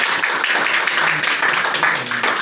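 An audience at an Anthro New England 2022 game of Pass the Yen claps for the winner, giving brisk, steady applause throughout while a voice talks over it.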